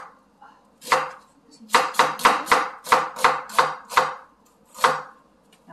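A knife chops an onion on a cutting board: one stroke, then a quick steady run of about eight crisp, close knocks and a final chop, with no talk.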